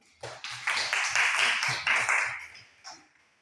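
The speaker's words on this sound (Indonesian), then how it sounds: "Tepuk tangan dulu." A classroom group claps together in a quick, steady rhythm for about three seconds, the claps bright and close, ending with one last clap.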